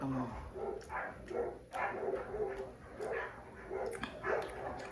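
Dogs bark repeatedly in short bursts at a moderate distance, an irregular volley of yaps and woofs over steady background noise.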